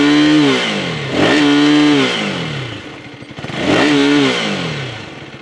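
A KTM 300cc motorcycle built to BS6 phase 2 norms is revved twice in close succession. Each rev climbs to a loud, raspy exhaust note and then drops back to idle.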